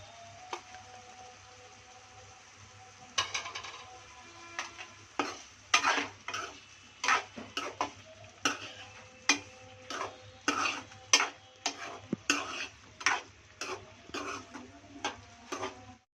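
Onion paste with curry leaves is stirred in a pan for an egg pulusu, giving a faint background sizzle and then a run of sharp, rhythmic spoon scrapes, close and fairly loud, repeating every second or so.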